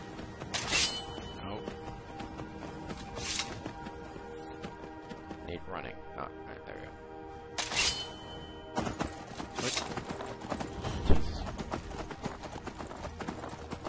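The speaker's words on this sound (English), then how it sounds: "And get on the horse." Rhythmic horse hooves clip-clop at a trotting pace in the game Skyrim, mixed with game background sounds and occasional louder thumps.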